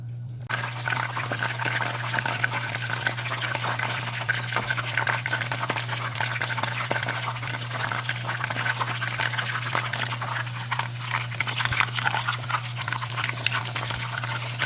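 Chicken 65 pieces fry in hot oil with a steady, close bubbling sizzle and fine crackling, set over a low constant hum throughout.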